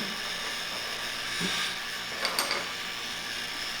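A bassoon reed-making machine mechanism gives a couple of faint, brief ratcheting clicks and creaks against a quiet room hiss as a wired reed is set into it.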